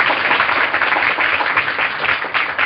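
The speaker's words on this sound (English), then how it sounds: "give the cast the volume of applause they deserve" A studio audience applauds the cast of a 1938 radio drama, a dense, continuous roar of many hands clapping at full volume throughout.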